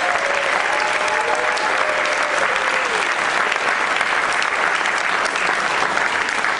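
Steady, dense applause from a large audience at a Berkeley Rep theatre show for Camp Tuolumne, loud and sustained with a few faint whistles near the start.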